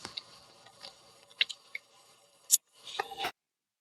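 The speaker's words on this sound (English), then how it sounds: "Now I cut the shock cord" Scissors snipping through elastic shock cord, a few short close clicks and cuts spread over a few seconds in a quiet room.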